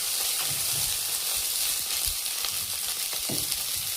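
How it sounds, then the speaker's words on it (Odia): Cluster beans (guar) fry in a pan with a steady, close sizzle, broken by a few soft stirring knocks and scrapes; no one talks. "ଏଠି ମୁଁ ଗୁଆଁର ଭାଜୁଛି"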